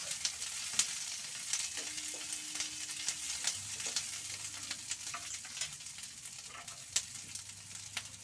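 Onions and chopped capsicum fry for chili chicken in a hot pan, giving a steady broad sizzle with scattered crackles and a few sharper pops. A stirring utensil clinks against the pan now and then, and no one speaks.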